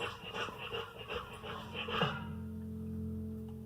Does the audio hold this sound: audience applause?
no